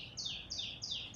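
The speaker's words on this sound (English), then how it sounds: "Thank you, birds." Birds chirp outdoors in a quick series of four bright, sweeping calls at an even rhythm. They are close and clear above a faint background hum, with no talking.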